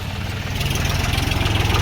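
Tractor engine at an onion market in Vaijapur, running steadily with a low, throbbing idle, close by and loud, with no voices over it.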